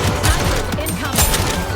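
Gunfire from snipers in the game Nikke comes as loud, rapid overlapping shots layered with game effects, and a voice is heard over the firing.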